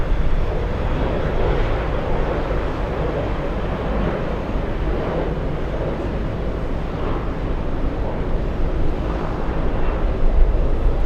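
An airliner takes off at Boston Logan airport, a loud, steady, broad jet roar that fills the whole stretch without a break and swells slightly toward the end.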